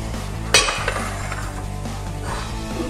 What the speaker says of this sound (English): So I'm gonna go ahead and pull it from heat now.